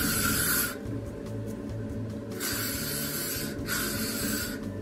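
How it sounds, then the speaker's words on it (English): L'Oreal Elnette hairspray hisses from an aerosol can onto short chin-length hair in two long bursts, the first and last over a second each, with a shorter puff in between, close and fairly loud with a quiet room underneath. "you want to take some hairspray. I just use the L'Oreal Elnette hairspray."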